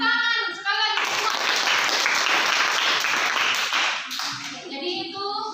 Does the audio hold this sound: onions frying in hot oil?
no